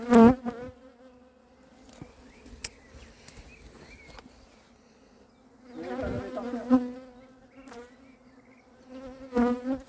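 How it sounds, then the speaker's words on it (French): Two agitated honeybees buzzing close around a beekeeper during a swarm collection at Varennes-sur-Seine, their drone swelling loud at the start, around six seconds and again near the end, fading lower in between. "il y a deux abeilles énervées qui me tournent autour"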